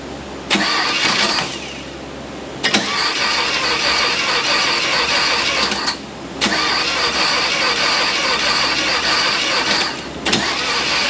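A newly replaced car engine runs steadily and loudly close by, its drone briefly dipping three times before settling back to the same even hum.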